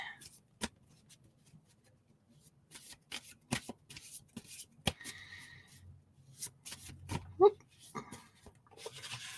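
A deck of tarot cards is shuffled by hand, with soft riffles and slaps that come in uneven bursts. A voice murmurs faintly in the background.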